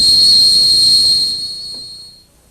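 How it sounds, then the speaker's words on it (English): A whistling teapot gives off a loud, steady high-pitched whistle that holds and then fades out toward the end, with no talk over it. "bird whistling over there."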